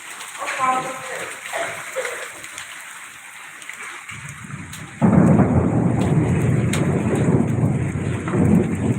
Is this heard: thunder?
yes